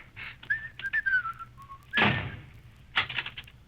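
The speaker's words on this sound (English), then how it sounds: "He knows I abominate whistling in the laboratory." A person whistling a short wandering tune in a laboratory, breaking off amid a couple of dull thumps and knocks, with no talking.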